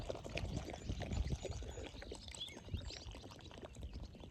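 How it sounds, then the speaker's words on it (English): Water pours steadily into a cooking pot at a night campsite, a close, continuous splashing rush that runs for several seconds at even loudness. "let's get some water in here"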